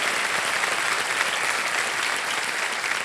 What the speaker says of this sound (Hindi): तालियों के साथ इनका स्वागत करते हैं।